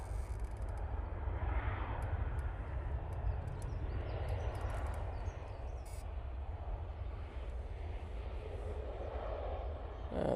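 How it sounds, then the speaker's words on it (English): EasyJet airliner touching down at Manchester Airport, a steady low engine rumble and roar holding constant throughout, broad and fairly distant with no talk over it. "EasyJet's just touched down"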